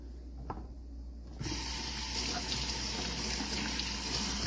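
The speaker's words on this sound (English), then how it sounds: "And let me rinse off my carrots here." Kitchen tap water starts with a sudden gush and then runs steadily as carrots are rinsed under it, a close, even hiss with faint splashing and no talk.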